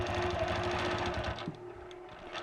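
A sewing machine stitching free-motion feather quilting on a wedding star quilt, its needle chattering in a fast steady rhythm up close before easing off and slowing near the end.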